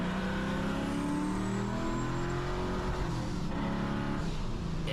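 A modified Ford Mustang with a Coyote 5.0 V8 swap and a stock 3650 transmission roars through a hard second-gear pull, loud and close, the engine note rising steadily throughout.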